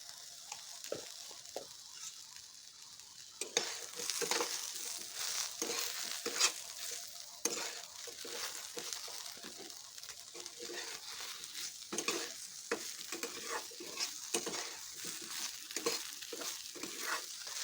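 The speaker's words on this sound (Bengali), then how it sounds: "এখন ঢ্যাঁড়সটা আমার ভাজা হয়ে এসেছে" Okra fries in a pan over medium flame with turmeric and salt, its quiet continuous sizzle broken by repeated scraping stirs that grow busier partway through.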